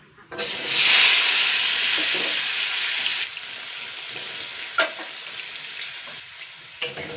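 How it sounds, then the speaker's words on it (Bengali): Pumpkin pieces fry in hot oil in a pan with a loud, broad sizzle that swells at first, then settles into a steady hiss broken by a couple of brief clinks. "এরপরে আমি কুমড়োটাকে জাস্ট দুই মিনিট ভেজে নেব"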